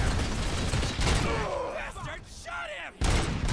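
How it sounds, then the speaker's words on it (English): Gunfire in the video game RoboCop: Rogue City, loud broadband bursts and mechanical clatter that drop away briefly and then return, with a voice talking over the action. "Stop shooting me!"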